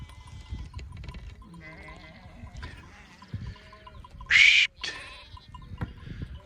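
Sheep bleat intermittently among a flock, one loud close bleat standing out over softer calls and low rustling in the background.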